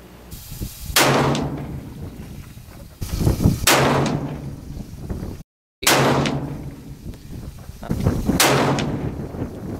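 Rifle shots on a range while sighting in a Viper PST Gen 2 scope: four loud, booming reports spaced a couple of seconds apart, each with a long ringing echo, and a brief cut of silence midway.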